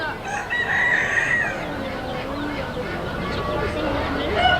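Chickens and roosters crow and cluck inside a poultry barn at the Franklin County Fair. Several overlapping crows ring out near and loud over a busy barn background.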